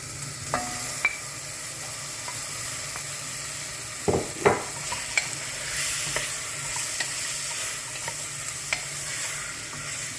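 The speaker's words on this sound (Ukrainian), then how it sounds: "поки смажиться у нас наш коктейль з цибулею" Continuous sizzling of a seafood mix and onion frying in a hot pan, with a few sharp clinks of stirring partway through.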